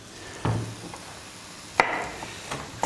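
A knife thuds through a firm potato onto a cutting board, three separate chops spaced about a second apart, close and distinct.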